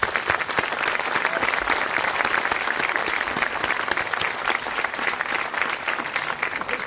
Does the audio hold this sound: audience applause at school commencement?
yes